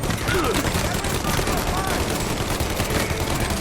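Dense, sustained gunfire rattles through a firefight in Mafia: Definitive Edition, a loud continuous barrage of rapid shots with voices mixed in.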